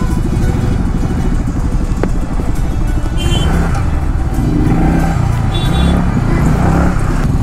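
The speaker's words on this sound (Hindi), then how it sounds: "कैसे ट्रैफिक हो गया यहाँ पर" Dense road traffic in India heard from a motorcycle, with a steady engine drone, passing vehicles and honks close by, loud and continuous with no talk.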